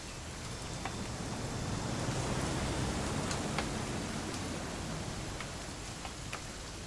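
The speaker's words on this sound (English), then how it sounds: "It's gonna rain the whole weekend, isn't it?" Steady rain in the video game What Remains of Edith Finch, a continuous hiss of falling drops with faint scattered taps, holding at an even moderate level throughout.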